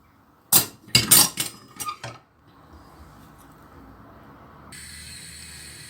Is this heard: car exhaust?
no